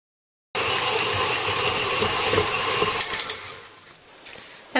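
A stand mixer kneads pretzel dough, a steady mechanical whir and rattle starting abruptly and then winding down into lighter clicks and knocks near the end.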